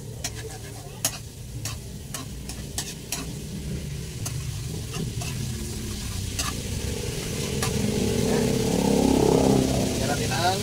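Margarine melts in a hot pan with a steady close sizzle, punctuated early by sharp clicks of a spatula, and the frying swells louder toward the end as a voice talks over it.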